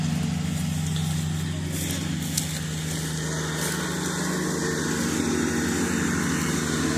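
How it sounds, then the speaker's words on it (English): A farm tractor mowing grass in a yard near a creek, heard as a steady, low engine drone at moderate distance that continues without a break. "it's hard keeping up with a guy on a tractor"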